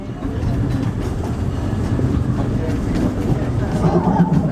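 A steam train rumbles steadily along the rails toward Toontown Depot with a continuous low, clattering roar and faint rhythmic clicks, heard close up without a break.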